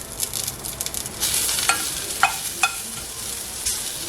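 Onions sizzle and crackle in a hot pan, with steady frying hiss and a few sharp stirring scrapes, close and clear with no talking.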